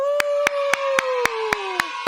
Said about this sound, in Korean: 일단 박수로 시작할까요?